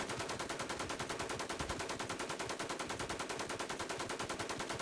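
Rapid sustained automatic gunfire from a weapon in the video game WarZ, a steady dense rattle of shots continuing loud and unbroken throughout with no talking.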